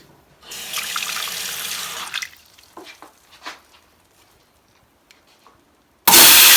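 Water runs steadily from a tap over a jewelry chain extender for a couple of seconds, then stops, leaving a few splashes and clinks before a loud burst of flow returns at the end.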